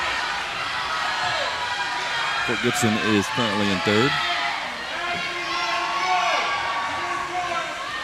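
Crowd at a swimming relay race, the 39th Annual Rose Invitational, cheering and shouting steadily in a large echoing pool hall beneath a close announcer voice that talks throughout.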